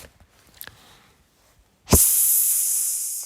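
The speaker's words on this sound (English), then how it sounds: "Hissed Snowflake" A tiny kitten lets out a sudden, loud, sharp hiss that starts with a burst and holds for over a second, after a few faint clicks in near silence.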